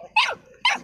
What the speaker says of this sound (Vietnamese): Thế ở nhà mụ nó cứ sủa thế này à?